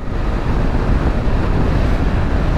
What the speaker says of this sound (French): Il y a pas mal de vent aujourd'hui